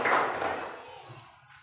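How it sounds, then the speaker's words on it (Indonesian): A short burst of classroom hand-clapping in a school lesson starts loud and quickly fades, with a voice murmuring underneath as it dies away. "Tepuk tangan dulu."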